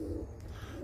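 A tumbler pigeon gives a brief, soft, low cooing sound, heard faintly and close for under a second.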